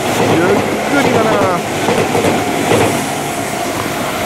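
A Tobu Isesaki Line limited express rolls slowly past Minami-Hanyu station in Saitama, a loud, close, continuous rumble of wheels and rail clatter with faint squealing tones.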